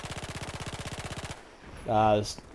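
Rapid automatic gunfire from a weapon fitted with an oversized scope in the video game Battlefield 4, a steady close burst of evenly spaced shots lasting over a second, followed by a short harmonic electronic tone.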